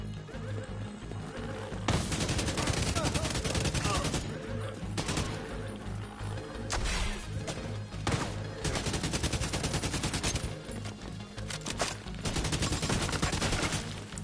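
A slow-firing gun in The Division 2 lets off shots in a steady, loud, dense volley that carries on through most of the stretch, with brief lulls between bursts.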